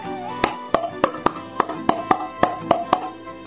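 Tungatong bamboo percussion made of bamboo tubes cut to various lengths, struck in a steady run of about eleven sharp, resonant knocks with a hollow ring, close and clear with no talking.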